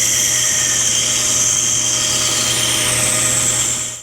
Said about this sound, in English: I ended up grinding that curved end of the Allen wrench off